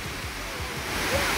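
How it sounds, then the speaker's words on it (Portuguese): Waterfall at Cachoeira da Mariquinha, a steady dense rush of falling water filling the whole short stretch, close and constant with no voices. "Aqui é a cachoeira."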